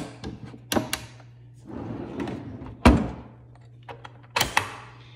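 A small hidden drawer in a wooden philosopher's desk slides and thunks shut, heard as several knocks and scraping wooden slides with a sharp closing clack near the middle, close and clear.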